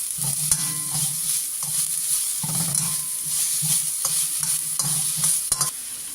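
Spring onion whites and green chillies stir-fried for restaurant-style noodles, with a steady sizzle under rhythmic scraping and stirring strokes of a spatula in the pan, close and continuous.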